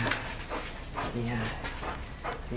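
A police dog barks and whimpers in short bursts during protection training, near and loud, while a handler speaks over it in Hungarian.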